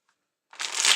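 Playing cards being shuffled close up during a live stream, a single brisk riffle of about half a second that starts after near silence and grows louder before stopping abruptly.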